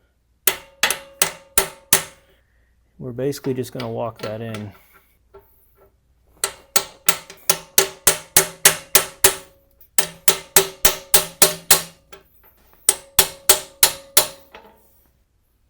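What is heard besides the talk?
small hammer tapping seal driver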